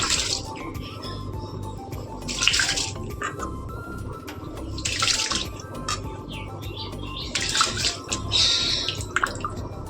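Rice is rinsed under a running kitchen tap: a continuous close flow of water with splashing, sloshing surges and drips recurring every couple of seconds as the grains are swirled by hand.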